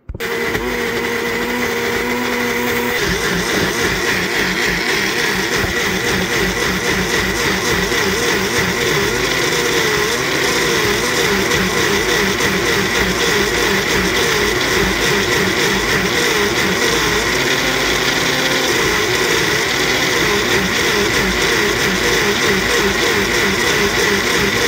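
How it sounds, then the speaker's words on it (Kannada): A kitchen mixer grinder whirs loudly and steadily, grinding avial ingredients with a little water, its motor drone holding constant with a busy churning texture throughout. "ನೀರೊಂದು ಸ್ವಲ್ಪ ಹಾಕಿ ಗ್ರೈಂಡ್ ಮಾಡಬೇಕು"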